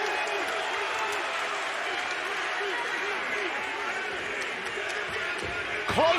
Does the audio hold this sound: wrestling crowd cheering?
yes